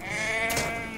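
A sheep bleating in the video game Anno 1800, one drawn-out wavering bleat heard clearly over a steady, tonal game background.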